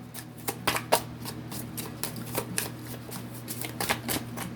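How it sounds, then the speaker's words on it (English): Tarot cards are shuffled close by in a quick, riffling run of soft slaps and flutters over a low steady hum, with no voices. "We're just pulling cards, people."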